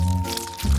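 Honey poured from above onto a waffle on a plate, a brief soft pouring sound lasting under a second, close and fairly clear, with a faint bump near the end.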